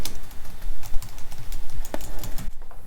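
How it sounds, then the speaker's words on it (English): Rapid, irregular clicking of keys on a computer keyboard, steady and close-up, with no voices. "the sound of the keyboard's really important"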